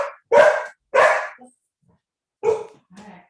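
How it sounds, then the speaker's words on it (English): A pet dog barks during a Zoom call: four or five loud, close barks in quick bursts, with short silences between them and a softer final yip. "It wouldn't be Zoom without a barking dog"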